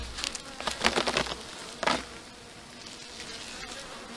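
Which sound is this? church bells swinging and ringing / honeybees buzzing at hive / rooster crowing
honeybees buzzing at hive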